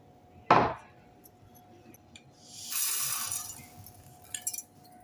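A mixer grinder jar handled in a home kitchen, with a sharp clink of the jar set down, then a longer rattling scrape and a few small knocks, close and alone in a quiet room.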